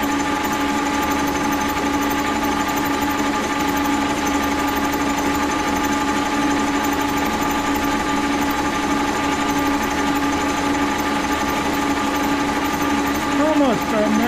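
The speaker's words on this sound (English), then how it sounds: "That carbide's working good." A milling machine cuts with a carbide cutter, giving a steady loud mechanical whine with constant tonal hum throughout and no break.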